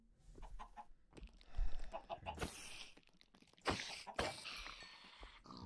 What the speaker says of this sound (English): Stop looking at me, chicken.